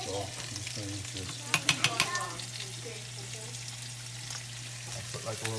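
Garlic frying in olive oil in a pan, a constant sizzle with scraping stir strokes and a few sharp clacks of utensil on pan, a low hum underneath and a brief voice in the background.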